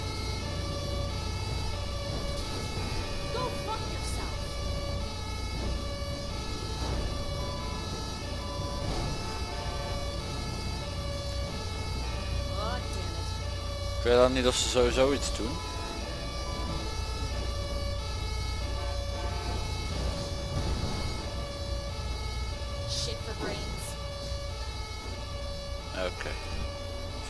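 An ambulance siren in the video game GTA 5 wails steadily with a low engine rumble beneath it. A short spoken remark comes midway and a brief clatter cuts through.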